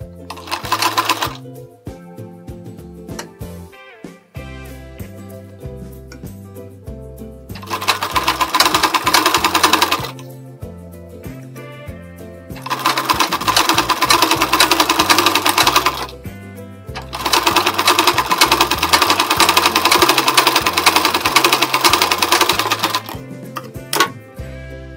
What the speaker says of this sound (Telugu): ఇలా పెట్టుకొని ఒక పావు ఇంచు ఉండేటట్టు చూసుకొని మనం స్టిచ్ చేసుకుంటూ రావాలి.